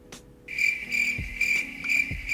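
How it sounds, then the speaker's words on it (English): Steady high-pitched cricket chirping sound effect, a continuous trill with no voices, accompanied by a few soft low thumps. "Crickets."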